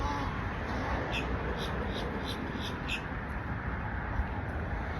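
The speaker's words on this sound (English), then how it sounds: "there's a black grackle on the fence, and that grackle is telling all of these other birds that it's time to get into the water" Common grackle and other birds calling outdoors, faint rhythmic high chirps over a broad, steady background wash, with a bird's calls repeating several times in the first three seconds.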